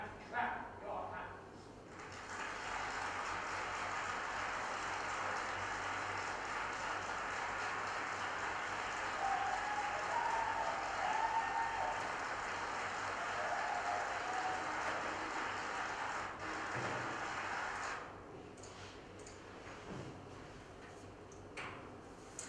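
Audience applause after a theatre epilogue, a broad, steady wash of clapping from a large crowd that swells in after a brief pause, holds for many seconds and then fades out.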